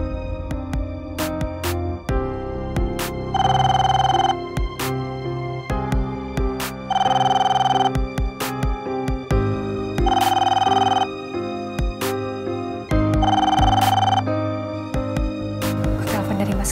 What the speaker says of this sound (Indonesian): Aku telepon dari Mas Gani gak diangkat